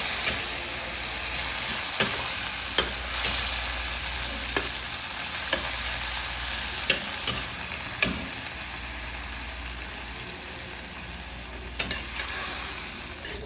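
Chunks of tuna fish fry in a pan while being stirred. A continuous sizzle runs throughout, broken by sharp scrapes and knocks of the utensil at irregular intervals.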